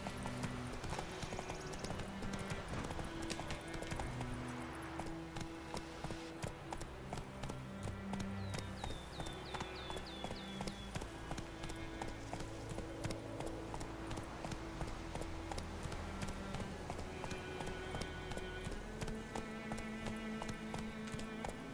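Roach, a horse in The Witcher 3, gallops along with a steady, continuous clip-clop of hooves that stays close and even for the whole stretch, with no voice over it.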